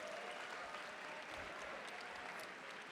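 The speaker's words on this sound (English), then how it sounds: "Let's clap it up." A dense, steady wash of clapping from a crowd at a Super Smash Bros. Ultimate esports grand final continues evenly throughout, fairly distant and without voices standing out.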